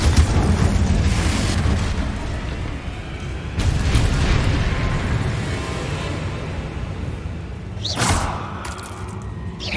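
Fiery Confringo blast spell explosions in the video game Hogwarts Legacy, a continuous roaring boom with renewed bursts near the start, around four seconds and again near eight seconds, loud and close.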